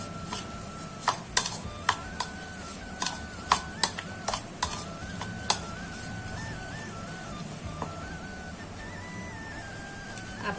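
A spoon mixes a corn tikki mixture with coriander, pepper powder and salt, giving soft scraping and stirring with a few sharp clicks and taps against the bowl, fairly quiet, over a faint tonal background hum.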